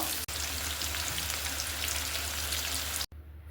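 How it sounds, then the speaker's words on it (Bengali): Fish frying in oil in a pan, giving a loud, dense, continuous sizzle with crackling spatter close by, broken by two brief dropouts, one near the start and one near the end. "মাছগুলোকে আগে ভালো করে ভেজে নিব"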